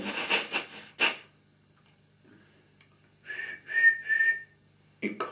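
A voice imitates a cheerful engine whistle for Henry, a steam engine, with a trio of bright whistled notes in the middle after a short burst of talk and a stretch of quiet, another voice starting at the end.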